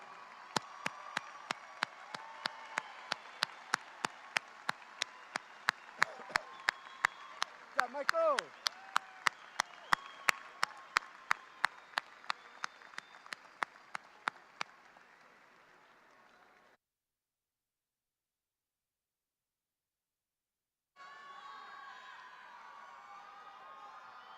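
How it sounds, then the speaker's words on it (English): A graduation crowd at the Eastlake High School commencement applauds parents and grandparents, with clapping, a few whoops and cheers over a regular rhythmic clicking, then the sound stops abruptly and a brief burst of crowd noise returns near the end. "please stand so that we can thank you with a loud round of applause"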